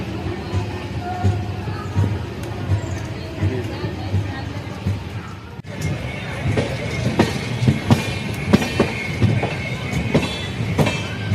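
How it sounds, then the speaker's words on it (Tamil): Janshatabdi Express rolling into Thanjavur railway station, a steady low rumble of the moving train with rhythmic wheel clacks over points growing sharper and louder in the second half, faint chatter in the carriage. "தஞ்சை ரயில் நிலைய எல்லைக்குள் நுழைந்து விட்டோம்."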